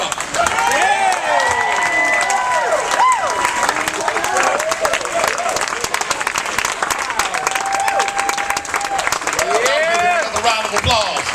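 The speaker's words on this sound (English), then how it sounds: "Another round of applause" A large audience applauds and cheers loudly and continuously, with whoops and shouted voices rising over the dense clapping throughout.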